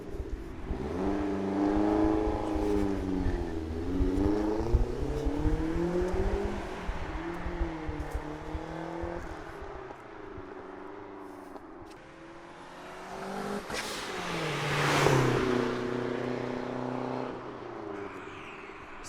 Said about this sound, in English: we're gonna let Aaron take it for a little quick pass around the street.